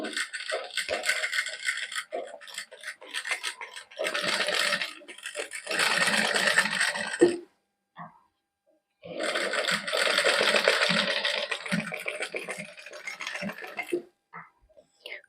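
A sewing machine stitches a salwar cuff in close, rattling runs of a few seconds each, stopping briefly between bursts, with no talking.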